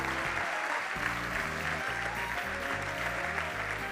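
A theatre audience applauding at a spring amateur theatre performance, a steady dense wash of clapping that fills the whole clip, with low tonal murmurs or music running beneath it.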